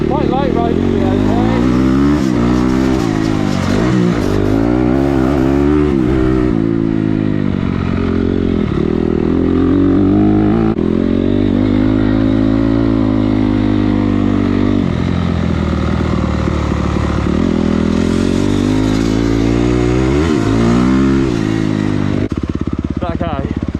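Motocross motorcycles riding at the VIP motocross track, with a loud, close engine rising and falling in pitch through repeated throttle surges and gear changes over the whole stretch.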